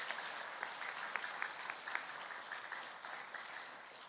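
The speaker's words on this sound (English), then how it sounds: "let's give them a round of applause for participating." Steady applause from a crowd at an elementary school awards ceremony, a dense wash of many hands clapping at once with a few sharper claps popping out, continuing without a break.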